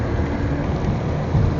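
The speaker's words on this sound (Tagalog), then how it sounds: "Malakas na yung ulan dun pala." Heavy rain hisses in a steady, dense roar on a foggy mountain road on the Marilaque loop, heard from a Honda ADV160 scooter ride, with a low rumbling undertone throughout.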